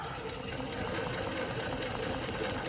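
A longarm quilting machine stitches a Baptist fan pattern with a steady, quiet mechanical hum and a fast rhythmic needle chatter, running alone without any talk.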